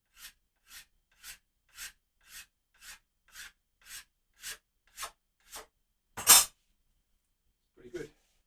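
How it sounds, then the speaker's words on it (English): A hand scraper works along the wood of a hand-carved guitar neck in about eleven short, even strokes at a regular rhythm, each a crisp close rasp, then one louder, longer scrape and a faint final touch. "It just scrapes off little bits."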